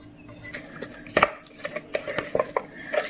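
A spinach, feta and black pepper pie filling mixed in a bowl, with scattered clinks, taps and soft squelching knocks of a utensil against the bowl, close and fairly quiet.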